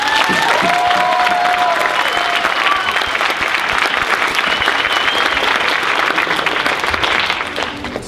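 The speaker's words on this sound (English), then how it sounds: "So a big round of applause for the parents of the cast, please." An audience at a school stage show gives the cast's parents a loud, sustained round of applause, dense clapping with a few whoops and cheers, continuing for several seconds before beginning to thin.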